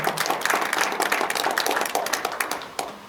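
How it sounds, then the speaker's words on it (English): An audience at an administrative block event claps together, a brisk, fairly soft patter of many hands lasting around three seconds with no speech over it. "Let's put our hands together for him."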